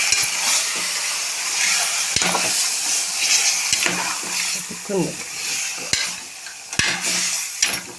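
Mutton curry frying in a pan while being stirred, a steady broadband sizzle with repeated scraping strokes and occasional sharp clinks of the spoon against the pan, close and loud throughout.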